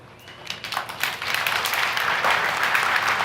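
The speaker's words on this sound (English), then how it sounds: "Okay, no more clapping." A crowd breaks into applause that starts scattered and swells into steady, loud clapping.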